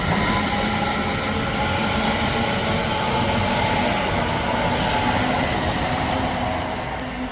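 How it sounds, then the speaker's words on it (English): A Class 805 train passing at Rugby on the West Coast Main Line, a loud continuous roar of wheels and engine that holds steady, then eases slightly at the end. "And here goes Class 805."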